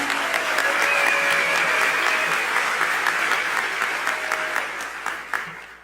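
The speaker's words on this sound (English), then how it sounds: "can we get a round of applause for Jody Gershon?" Steady, sustained applause from a large audience at the NMPA Annual Meeting awards, dense clapping filling the whole stretch before tapering slightly at the end.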